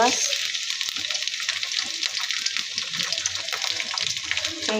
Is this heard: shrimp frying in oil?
yes